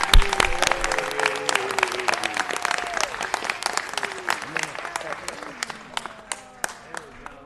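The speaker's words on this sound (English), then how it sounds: "Let's give him a round of applause." A room at a city council meeting breaks into a sustained round of applause, with dense clapping from many hands and voices calling out over it throughout.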